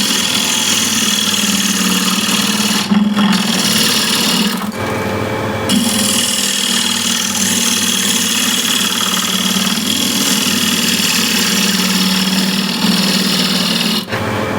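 Woodturning gouge cutting against the grain of a wooden bowl spinning on a lathe, a steady close scraping drone over the motor hum, with brief pauses between passes.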